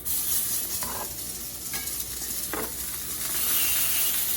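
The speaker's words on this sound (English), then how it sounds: "I'm going to very simply just sear these on all sides real fast" Chicken thighs searing in olive oil in a pan hiss loudly and steadily, and the sizzle swells toward the end as a few brief scraping or turning sounds come through.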